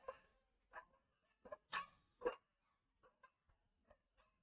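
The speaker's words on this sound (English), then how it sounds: "Sorry, we've got 7 dogs." Dogs in a household bark faintly in the distance, a handful of separate woofs and yips spaced irregularly, quiet with silence between them.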